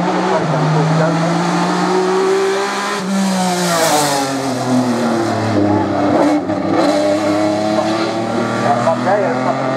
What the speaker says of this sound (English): Mondeo coming through again